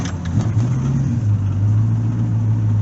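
A C4 Corvette engine idles steadily after starting, a close, loud, continuous low rumble holding an even hum with no voices over it.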